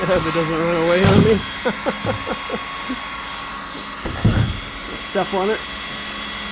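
A heat gun softens a broken plastic plow marker wand from a Can-Am Outlander 700 ATV, its steady blowing whoosh running under a man's intermittent speech.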